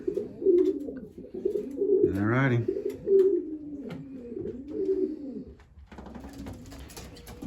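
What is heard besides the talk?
racing pigeons cooing in loft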